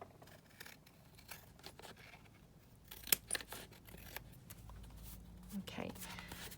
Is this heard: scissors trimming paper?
yes